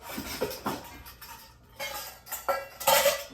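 Kitchen bowls clatter and clink as they are moved and set down, several close, moderately loud knocks in quick succession.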